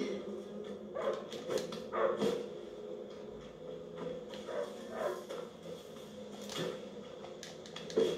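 A dog in the video game A Plague Tale: Innocence barks several times in short, uneven bursts at moderate distance, with quieter gaps between, over a faint background hum.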